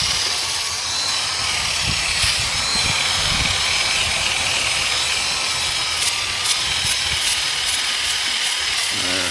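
A drill-mounted brush scrubs a porous cement bird bath with borax, making a continuous loud motor whir and abrasive scrubbing hiss, with a few faint knocks, and no one talking.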